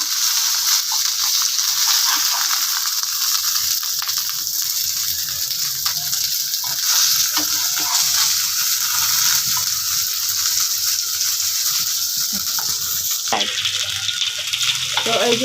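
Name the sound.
poa fish fritters with bottle gourd leaves frying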